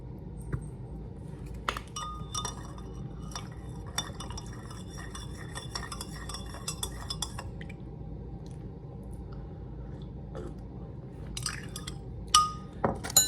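A spoon stirring peppermint tea with honey in a cup, light repeated clinks of metal against the cup over a quiet background, close and fairly soft, no talking.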